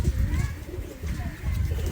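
Local giribaz pigeons cooing close by: low, rolling throaty coos in short repeated bursts over a brief moment, fairly loud and near.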